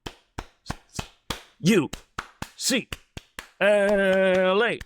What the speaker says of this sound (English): it's like a quickly speeding up 8 claps